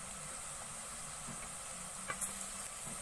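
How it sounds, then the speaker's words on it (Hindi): Garlic ginger paste sizzles in a pan with browned onions, a soft continuous frying hiss with occasional stirring scrapes and a brief louder clatter near the end, no talking. "अब लहसुन को भी इसी के साथ भून लेंगे"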